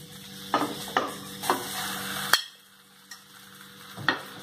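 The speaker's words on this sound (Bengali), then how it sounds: "এবার আমি সেদ্ধ আলুটা দিয়ে দিচ্ছি।" Boiled potato stirred into a frying masala of ginger, garlic and spices for egg devil: close spatula scrapes and knocks every half second or so over a steady sizzle that drops away midway, leaving a few quieter taps. No talking.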